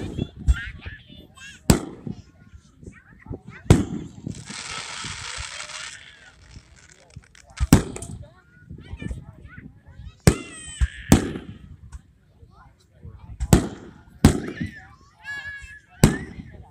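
Fireworks shoot off at a fireworks event, with sharp loud bangs spaced every couple of seconds, crackling bursts and whistling rises between them, and voices murmuring in the crowd underneath.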